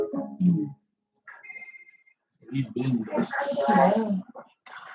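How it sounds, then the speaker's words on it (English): A phone rings with short electronic tones, coming in a brief bright burst between stretches of talk and again partly under a voice. "I'm getting a phone call from home."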